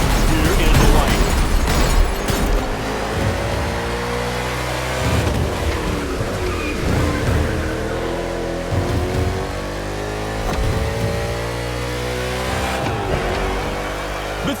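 NASCAR race cars in the video game The Crew Motorfest on an urban street circuit in Honolulu, Hawaii, loud engines revving and rising in pitch through repeated gear changes, with occasional pops, running continuously without talk.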